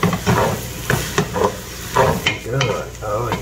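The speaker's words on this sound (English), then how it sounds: "Now I'm going to just give this a quick stir." Ground beef and Italian sausage sizzle loudly in a frying pan while a utensil stirs and scrapes through the meat in repeated close strokes.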